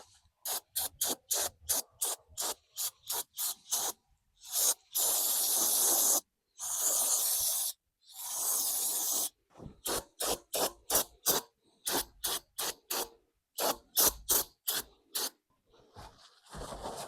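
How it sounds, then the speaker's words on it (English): Brake parts cleaner sprays from an aerosol can while a Ford 7.3 fuel filter is installed, in short repeated bursts with a few longer hissing blasts, close and fairly loud, with no talking. "We got some brake parts cleaner."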